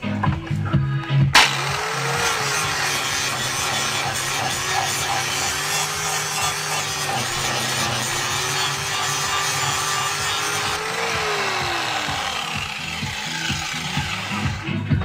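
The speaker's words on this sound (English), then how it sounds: "I have to go with the grinder and shift that." Angle grinder grinding rust off the metal of a 2004 MTD SN 150 ride-on mower under restoration, a loud continuous whine with a steady rasping edge close by, no talk.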